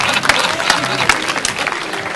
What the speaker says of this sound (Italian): l'applauso va a Miranda Arnosti.